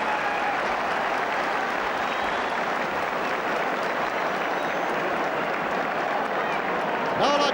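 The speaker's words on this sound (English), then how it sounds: "And listen to the crowd." A big stadium crowd roars at half-time of the 1980 All-Ireland senior hurling final between Limerick and Galway at Croke Park, a loud, sustained wash of cheering and clapping that holds steady from start to finish.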